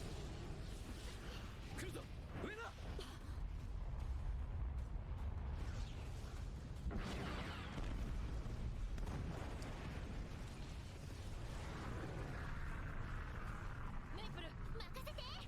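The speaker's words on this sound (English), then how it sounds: "So the thing can call on meteor attacks, which is pretty cool." Meteor attack explosions from the Bofuri anime, heavy booming blasts and whooshing bursts rolling continuously with a speaking voice over them.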